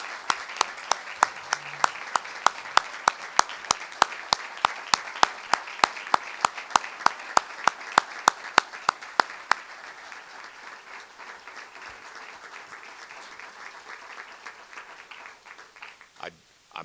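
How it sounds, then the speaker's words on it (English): An audience at an Oklahoma State press conference gives a round of applause, with one loud rhythmic clapper standing out near the microphone over softer scattered clapping. The rhythmic clapping stops partway through and the quieter applause fades out. "So how about a big round of applause for Mike Holder and everything he's meant for Oklahoma State?"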